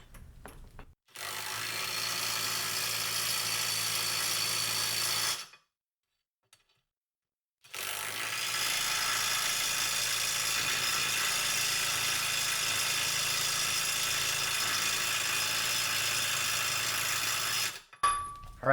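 A Kobalt 24-volt impact wrench torques a bolt in two long, loud, continuous bursts of hammering buzz, close up, separated by a brief silence, with no talk.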